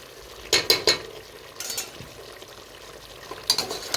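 Onion paste stirred into chicken biryani masala frying in a pot, with a few clattering scrapes of a spoon over a soft steady sizzle, close by and moderately quiet.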